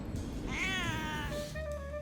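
A cat gives a single close, drawn-out meow in reply to being spoken to, followed by a softer short trailing call, in a quiet indoor spot in Turkey.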